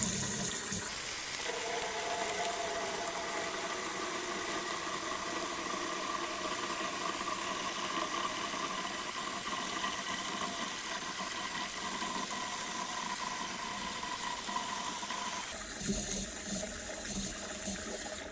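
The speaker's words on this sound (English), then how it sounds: "I'm gonna give it a quick rinse, and then we're gonna fill it back up" Tap water runs steadily into a tub used for washing wool, a continuous rushing stream with a low hum underneath that shifts briefly near the end.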